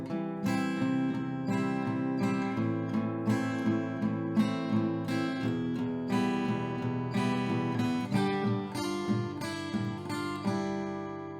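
An acoustic guitar strums the chord progression of a song in a steady rhythmic pattern, with full ringing chords and regular accents, close and clear with no talking.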